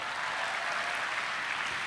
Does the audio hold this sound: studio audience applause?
yes